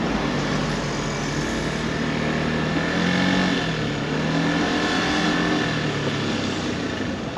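Steady idling and creeping car engines in a stalled traffic jam at the seaside resort of Lazarevskoye, a continuous close rumble with mild swells of revving and no voices.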